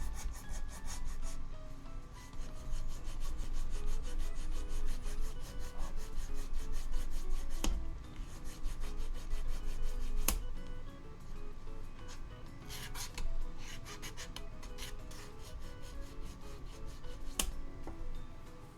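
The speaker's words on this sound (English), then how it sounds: "I need to fucking sand this part down." Continuous rubbing and rasping as a part of a custom-built supercharged Nerf blaster is sanded down by hand, steady and close, with a few sharp clicks and taps breaking the friction noise.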